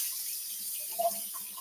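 Tap water runs into a kitchen sink to wash broccoli while cooking sweet potato shrimp with broccoli; a steady, fairly quiet hiss continues throughout with a small splash near the middle and no talking.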